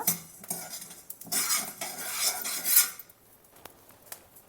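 Wheat grains dry-roasting in a pan over a low flame, heard as a close, rough scraping and rattling as a spoon stirs the dry kernels, louder in the middle and tapering to a few faint ticks.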